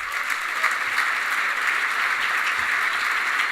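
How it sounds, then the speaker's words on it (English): Sustained audience applause at a baseball writers' award ceremony honoring a player's physical comeback, a continuous even wash of clapping with no speech. "based on that round of applause"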